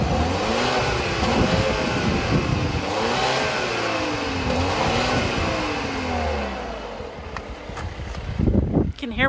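A 2014 Volvo's 2.0-liter inline four-cylinder engine revs loudly and close by in repeated rising and falling surges, then settles before a few sharp clatters at the end.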